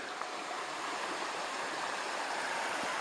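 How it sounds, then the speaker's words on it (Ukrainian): A riffle on the Bober River, a shallow stretch beneath a high bank, gives a steady, fairly faint broadband rush of flowing water with no voices. "Високий берег, перекат."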